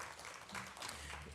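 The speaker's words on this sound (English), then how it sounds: "I want everyone to make an effort to give yourselves another round of applause for that." Convention crowd applauds, a short, dense burst of clapping from many hands in a large room, steady and moderately loud for about a second and a half.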